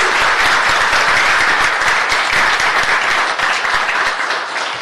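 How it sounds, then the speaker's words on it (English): A round of applause at a city transportation committee meeting honoring staff, steady dense clapping from the audience sustained throughout with no talk. "we're going to give them a round of applause"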